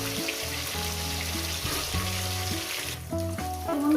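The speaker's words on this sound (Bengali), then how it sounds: "এই মাছগুলো আমার ভাজা হয়ে গেছে" Fish frying in hot oil, a loud continuous sizzle up close, with steady musical tones playing underneath and no voices.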